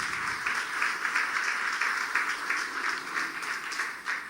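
A church congregation claps in a steady, moderately loud ripple of applause that carries on throughout, with no clear voices over it.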